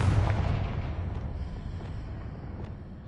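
A Confringo blasting spell explodes in the Hogwarts video game, a loud booming burst at the start with heavy low rumble that decays steadily over the next few seconds.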